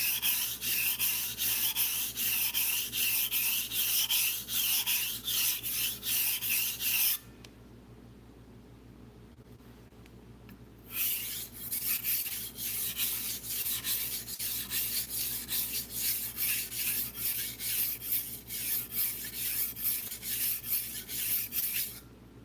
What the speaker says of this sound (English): The higher the number, the finer the grit, the slower it'll sharpen your knife